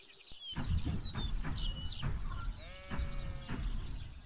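Sheep bleating in a video game, several wavering bleats over a steady busy game soundscape with chirpy bird-like effects, fairly close and clear.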